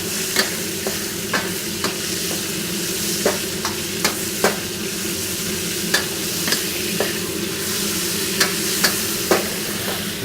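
Beef stir-frying in oil in a pan for a Thai rard nah noodle dish, a loud, continuous sizzle punctuated by regular sharp taps and scrapes of a spatula against the pan.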